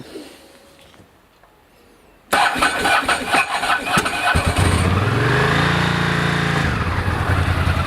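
A Ducati ST2 motorcycle engine starts from cold. After a short quiet spell, the starter whirs, the engine catches and fires up, then settles into a loud, close, lumpy idle.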